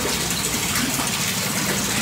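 Water falls steadily from a filter barrel into a small minimalist koi pond, a loud, continuous splashing gush that fills the whole short stretch with no pause.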